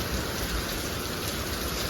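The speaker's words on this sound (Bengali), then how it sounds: "বাইরে এই মুসলধারে বৃষ্টি হয়েই যাচ্ছে" Heavy rain pours down outside in a dense, unbroken roar of hiss and patter, steady and close, with no voices.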